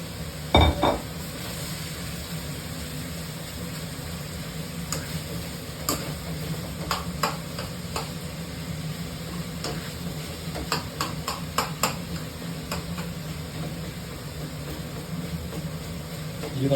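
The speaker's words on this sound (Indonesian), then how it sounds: "Ben dalam mengaduk nasinya dia pakai pengaduk yang logam karena sekarang kita pakai wok dari besi bukan dari teflon" Metal spatula clinking and scraping as it stirs fried rice in an iron wok over steady frying sizzle, with sharp irregular ticks spaced through the stirring.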